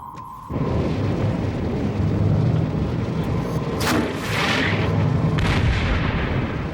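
A sci-fi spaceship opens fire, a steady rumbling weapons barrage with a few sharp bright blasts punching through partway along, loud and sustained after a brief tone at the start.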